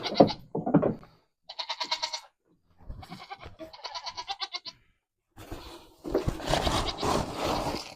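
Goats on a Georgia farm bleat repeatedly in the morning, several loud, nearby, quavering calls in quick succession, the last ones overlapping with rough scraping and rustling.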